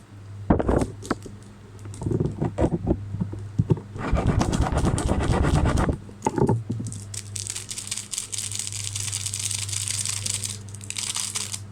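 Food being cut with a knife during home cooking, a run of crisp chopping taps and crunches that bunch into a dense burst midway, over a steady low hum.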